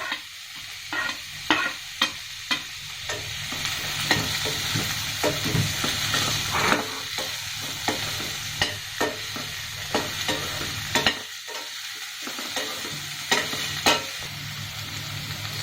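Carrot and green peas with onion sizzle in a pan for wheat vermicelli upma, stirred with a spatula that scrapes and taps in repeated bursts over a steady frying hiss.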